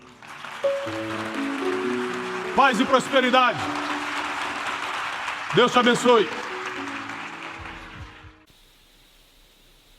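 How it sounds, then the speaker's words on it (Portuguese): A church congregation applauds at a sermon by a pastor, with steady, moderately loud clapping lasting several seconds, while someone speaks over it before the sound fades to near silence. "aplaudam ao Senhor"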